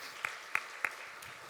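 A church congregation gives three or four sparse, distinct claps spaced evenly apart, faint against a quiet room hiss.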